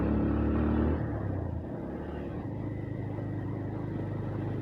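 Engine of a scooter or motorbike on a road in a Karbi village near Diphu, a continuous low droning rumble that revs higher at first, then drops and holds a steady, strained hum without gaining pitch.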